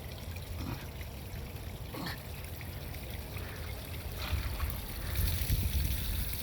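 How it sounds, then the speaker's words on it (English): Water runs and trickles steadily from a small pond waterfall, a soft continuous splashing that swells slightly toward the end. "let me turn this waterfall on just to get a little water circulating"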